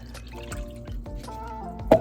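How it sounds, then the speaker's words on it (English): Milk dribbles into a bowl in a small RV kitchen, a few separate drips and trickles building to a louder splashy plop at the end, close and clear with no talk. "So what I do is I want to pour my milk"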